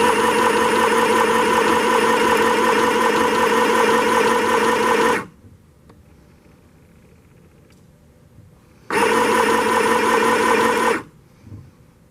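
A sewing machine stitches a shirt in two bursts, a loud steady whirring hum for about five seconds, then near silence, then another two-second run before stopping again.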